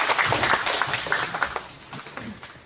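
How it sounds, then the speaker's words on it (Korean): Audience applause at a Gyeongsangbuk-do tourism host program briefing session, a dense crowd of clapping hands welcoming the project director, fairly loud and steady before thinning out toward the end, with no talking over it. "박수로 부탁드리겠습니다"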